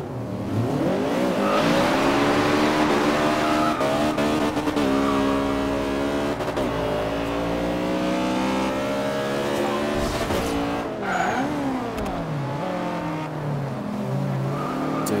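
A car accelerates hard nearby, its engine revving loud and climbing through the gears with a sustained roar and some tire noise, no speech over it.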